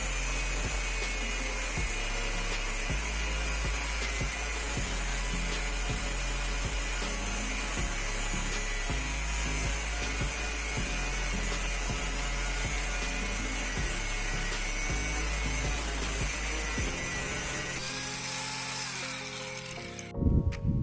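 A DCA ASM02 angle grinder running continuously for about twenty seconds, a loud steady high whine, then spinning down and stopping at the very end.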